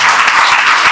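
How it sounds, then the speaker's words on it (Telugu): An audience at a Christian sermon gathering claps together in a brief, dense burst of applause, close and loud. "చప్పట్లు కొట్టి"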